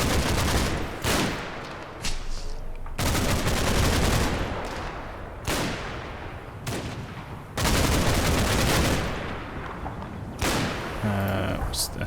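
Gunfire in the Normandy wargame Combat Mission: Battle for Normandy, loud dense bursts of rifle and machine-gun fire with heavy thumping reports, sustained across the whole stretch with brief lulls between volleys.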